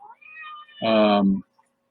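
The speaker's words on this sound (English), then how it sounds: "My cat's calling me, and I got to go." A house cat gives a single loud, drawn-out meow close by, lasting about half a second, after faint quieter sounds, with no voices during the call.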